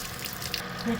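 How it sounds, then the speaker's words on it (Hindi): Running water pours steadily over vegetables or pieces being washed in a basin at home, a continuous close splashing flow that swells slightly toward the end. "सबके ऊपर पानी डालो ना, फिर अच्छी तरह धुल जाएंगे।"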